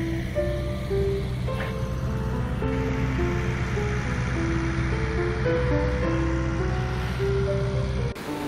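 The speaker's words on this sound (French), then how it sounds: "j'avais pas pensé au bruit de l'eau, au bruit des vagues." Sea waves and water along the Arcachon coast in August, a steady broad wash of surf filling the whole stretch, with a sustained melodic tone line running over it and no talking.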